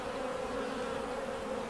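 Honeybees on a Varroa-infested brood frame hum in a steady, dense buzz, close and continuous with a sustained drone and no pauses.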